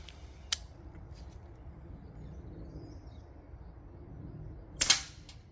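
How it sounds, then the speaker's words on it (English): An air rifle fires at a bushcraft camp: a sharp, close snap near the end after an earlier faint click, set against quiet outdoor ambience with no speech. "Rafe, shoot when ready, mate."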